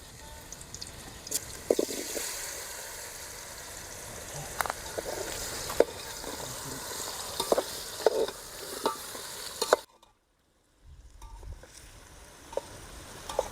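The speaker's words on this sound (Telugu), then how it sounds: "ఇప్పుడైతే ఆయిల్ అయితే వేడెక్కిపోయింది ఫ్రెండ్స్. ఇప్పుడైతే పనస ముక్కలు అయితే వేసుకుందాము" Jackfruit pieces for a biryani fry and sizzle in hot oil, with steady crackling and repeated stirring scrapes for about ten seconds, a brief silent gap, then quieter sizzling resumes.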